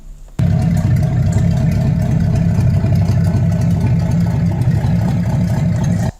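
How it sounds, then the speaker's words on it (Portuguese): A V8 engine runs on the ground, outside any car, in a steady, loud, close-up drone that cuts in abruptly and holds evenly for about six seconds before stopping. "você tem aí o funcionamento de um motor V8"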